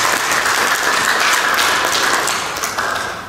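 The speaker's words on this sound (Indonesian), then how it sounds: "Tepuk tangan dulu buat Asperindo." Loud, close applause from the audience at a regional Asperindo NTT meeting attended by the governor: a thick, continuous wash of clapping that holds steady and tapers slightly at the end.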